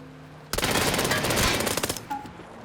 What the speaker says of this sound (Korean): 총소리가 나는 데로 한번 가볼까요?